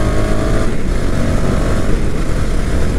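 A 250cc motorcycle accelerating hard in third gear, its engine a loud, continuous close-up roar with steady wind rush throughout.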